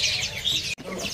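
Caged birds at an Indonesian bird market, including yellow Mozambique canaries, chirping in quick, high, overlapping tweets, close and fairly clear, with a brief gap in the middle.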